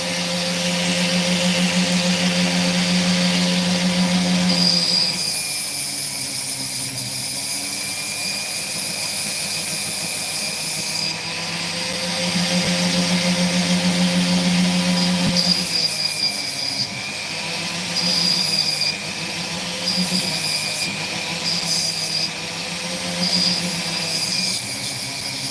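A steady, loud grinding whine of a rotary drill blade cutting into opal, holding a constant pitch with brief shifts in load, no voices.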